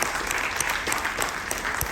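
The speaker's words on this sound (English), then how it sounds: "Clap for that." An audience aboard the Carnival Legend cruise ship claps during a tribute to veterans, a steady, fairly close wash of clapping with occasional sharper individual claps.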